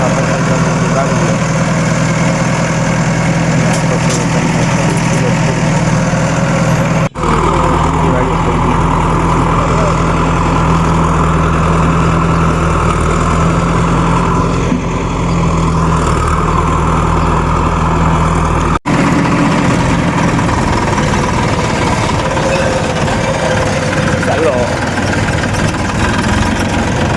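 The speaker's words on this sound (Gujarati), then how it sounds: "જેસીબીથી ભરે છે ટ્રેક્ટરમાં ખાતર" A tractor engine idles loud and close for the whole stretch while a JCB loads manure into it on a farm, a steady low rumble with brief breaks and a voice talking over it.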